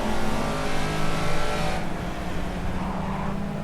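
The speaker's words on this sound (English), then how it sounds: "listen to the engine. Holy smokes." A rear-wheel-drive Caterham race car engine in the video game Project Cars revs loudly and continuously, roaring at high pitch before easing slightly, with no voices over it.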